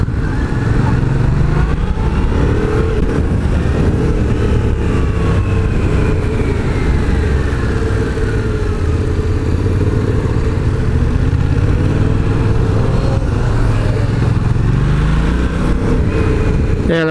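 A Yamaha MT-07 motorcycle's engine drones steadily and loudly while the bike is ridden, its pitch rising and falling with the throttle, along with some wind and mechanical clatter and no speech.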